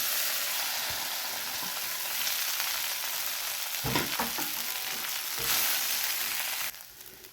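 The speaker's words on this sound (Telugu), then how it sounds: "ఆవాలు జీలకర్ర వేసినప్పుడు పల్లీలు వేసేయాలండి. నేను ఇప్పుడు వేస్తున్నాను" Peanuts fry in hot oil with mustard seeds and cumin, a steady close sizzle with scattered crackles and a brief stirring rustle near the middle before the hiss drops slightly at the end.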